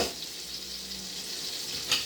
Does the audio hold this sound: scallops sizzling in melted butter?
yes